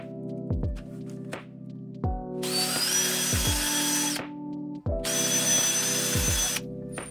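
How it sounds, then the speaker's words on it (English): A power drill bores mounting holes into a wall for a bracket on an electric tankless water heater. Two bursts of drilling, each about two seconds long, sound close and loud over steady background music. "Then we can drill out the 4 holes."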